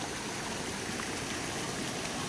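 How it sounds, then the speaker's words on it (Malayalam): A small rain-fed ditch stream runs steadily and near, a constant broadband rush of flowing water with no voices. "കുഞ്ഞി കൈത്തോടാണ്"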